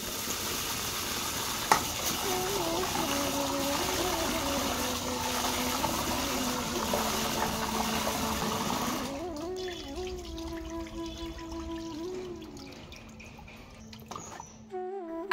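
Rice being washed by hand in water, a steady wash of splashing and swirling that thins out into sparse drips and clinks near the end.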